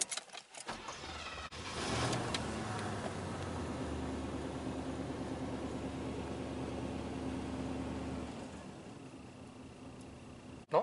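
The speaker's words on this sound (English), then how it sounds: "No, it's misfiring again." An old car engine idling steadily with a low, rough drone and an uneven, misfiring undertone, close by with no talk over it.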